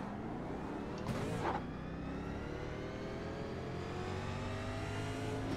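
A race car engine drones steadily in the NASCAR Legends video game at North Wilkesboro Speedway, with a brief louder rev-like burst near the start, then a continuous mid-pitched hum.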